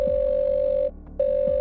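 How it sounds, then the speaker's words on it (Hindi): A phone call's ringback tone plays as a steady electronic beep that stops briefly and then resumes, clear and alone. "फिर टिया को कॉल किया।"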